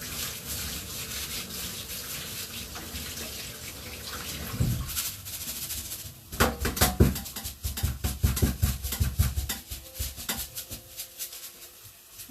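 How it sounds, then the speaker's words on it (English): Rice rinsed under a cold running tap, a steady gush of water at first, then irregular sloshing and rubbing as the grains are swirled and scrubbed by hand, close and fairly quiet. "So just take that over to cold water and give it a really good rinse."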